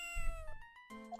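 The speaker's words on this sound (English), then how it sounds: "Ah, what a lovely cat." A cat meows in the video game Ace Attorney: Justice for All, a short tonal two-part call with rising and falling pitch, clear and alone, moderately quiet.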